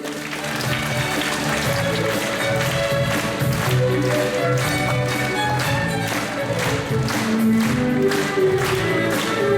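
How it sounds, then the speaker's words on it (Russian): An audience in a city hall claps steadily throughout a library's centenary celebration, a dense sustained patter of many hands over background music. "Аплодисменты."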